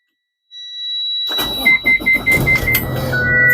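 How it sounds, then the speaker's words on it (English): After a dashboard warning tone beeps, a bus engine cranks in several rhythmic pulses and catches into a loud, close idle, while a steady electronic alarm whine keeps going over it. "Now we're going to start the bus."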